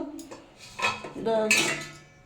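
A metal lid clanks onto a pot of thin fish curry with potato and pointed gourd, a few close ringing knocks and scrapes in quick succession over a couple of seconds.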